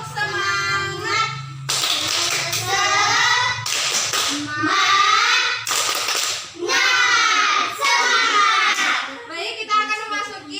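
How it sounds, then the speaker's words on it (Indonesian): An upper-grade classroom of children performs a rhythmic spirit clap, bursts of unison clapping alternating with loud group chanting and a teacher's voice, repeated in several quick rounds. "Tepuk semangat."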